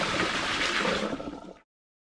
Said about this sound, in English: This goes down the sink.